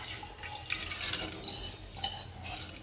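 Faint trickle and splash of water, used for washing urad dal, poured into a metal pressure cooker, a short quiet pour with light clinks.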